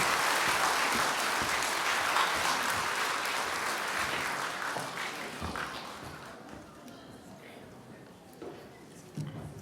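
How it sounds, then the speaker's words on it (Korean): Audience applause welcoming performers at a Korean event, loud dense clapping that gradually fades out over several seconds, followed by quieter room noise and a few faint thumps. "큰 뜨거운 박수로 환영을 부탁드립니다."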